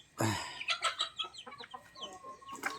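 Rhode Island Red chickens cluck and squabble close by in a pen, with a burst of agitated calls followed by a run of short, overlapping clucks.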